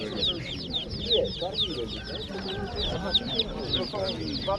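Several chickens cluck and a rooster calls repeatedly at an animal market in Rzeszów, Poland, with a busy farmyard chorus of bird noises, fairly close.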